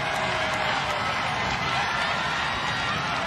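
A large college football stadium crowd at South Carolina State, hosting Florida A&M, roars in a broad, sustained, distant wash of cheering and noise that holds steady throughout.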